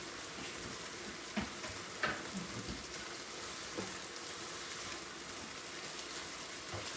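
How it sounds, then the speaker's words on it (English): Noodles go into a hot pan for spicy sesame noodles with ginger chicken and are stirred, making a loud continuous sizzle with scraping and a few sharper clatters. "so then we add the noodles in"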